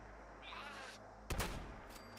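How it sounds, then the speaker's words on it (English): A single sharp gunshot fires in the post-apocalyptic video game Fallout 76, a loud broadband crack with a short rumbling tail over low game ambience, following a brief faint tone. "I'm gonna shoot him."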